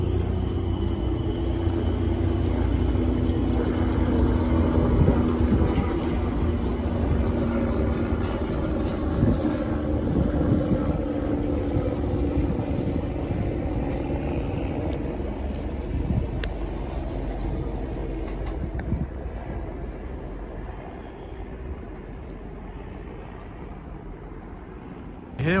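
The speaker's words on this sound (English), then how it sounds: "Departing now is this pair of South Western Railway 455s bound for London Waterloo." A pair of South Western Railway class 455 electric trains pulls out of a London-area station toward Waterloo, a loud, close, steady rumble that slowly eases and fades over about twenty-five seconds.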